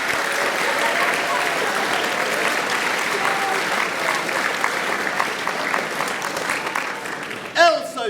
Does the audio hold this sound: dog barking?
no